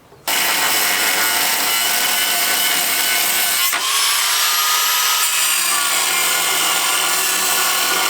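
A power cutting tool grinds and saws through a car's firewall metal during a right-hand-drive conversion, starting abruptly and running loud and continuous up close, with a brief dip and a pitch change midway.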